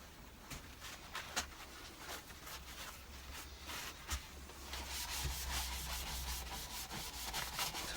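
Wax rubbed by hand onto a wooden yarn bowl makes steady, close, soft scratchy friction strokes with a few sharper scuffs.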